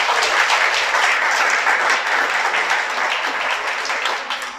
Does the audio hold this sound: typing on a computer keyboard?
no